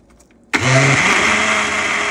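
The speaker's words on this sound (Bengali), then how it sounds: "তারপরে এটাকে ব্লেন্ডার করে নেব" A kitchen blender whirs to life, blending food with water; after a short quiet lead-in it starts abruptly at about half a second and runs loud and steady to the end, with no talking.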